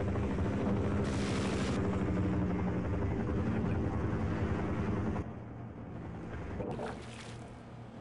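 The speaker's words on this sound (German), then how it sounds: "Der Heli will uns beide umbringen." Helicopter from the game Half-Life whirring loudly and steadily with a thick low rotor drone, dipping slightly in level partway through, no voices.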